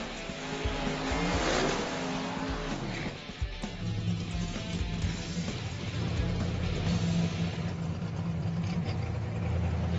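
Hot rod drag race cars launching at the NMCA West World Street Finals, loud roaring engines rising and sustained across the strip, heard from a moderate distance with crowd ambience.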